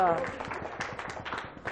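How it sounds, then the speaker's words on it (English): Students in a lecture class give a short round of clapping for a classmate, soft and somewhat distant, with a voice at the start and light murmuring. "Give her a clap"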